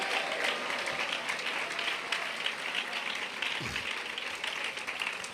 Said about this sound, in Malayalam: കൈയടിക്കുന്നെങ്കിൽ നേരെ കരങ്ങൾ അടിച്ച് ദൈവത്തെ സ്തുതിക്ക്